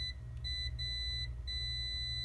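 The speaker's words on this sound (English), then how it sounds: "and we get the beep" A multimeter continuity tester beeps on an uncut solid wire, giving a few steady high electronic tones separated by short gaps over a low background hum.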